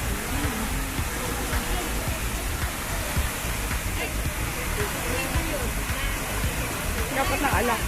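Park fountain in Kowloon Park, Hong Kong, with dirty water, splashing in a steady, full rush of falling water, with voices faintly mixed into the wash.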